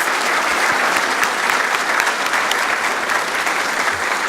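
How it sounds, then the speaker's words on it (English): Loud, dense applause from a large crowd at an apprenticeship awards night, a thick uninterrupted roar of clapping held at a steady level from start to finish. "One more round of applause."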